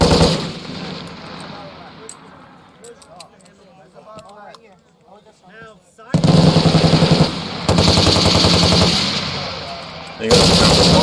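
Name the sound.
machine gun fire during Marine infantry training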